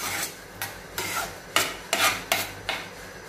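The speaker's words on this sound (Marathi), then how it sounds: "तर आता आपल्याला हे 5 ते 10 मिनिटं असं ढवळत राहायचंय" A spoon scrapes through thickening puran filling of jaggery and lentils in a pan, seven rhythmic rasping strokes, close and clear with no talking.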